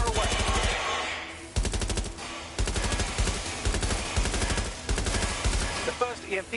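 Rapid automatic gunfire rattles in long, loud bursts in Watch Dogs: Legion, with short pauses between volleys and a faint voice underneath.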